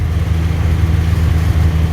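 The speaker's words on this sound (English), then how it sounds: "It's idling a little high." A 1966 Chevy van engine idles with a steady low rumble, running a bit fast and loud up close, with no talking.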